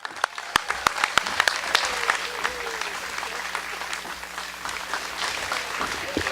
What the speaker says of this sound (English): let's give a big round of applause and a big welcome to Senate Republican leader Christine Radogno